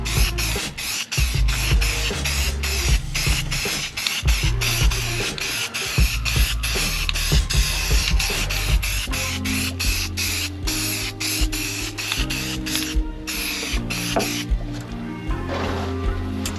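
Spray gun laying primer onto a Jeep Wagoneer frame before Raptor Liner undercoating: a continuous airy hiss runs steadily underneath louder music with a thumping bass line.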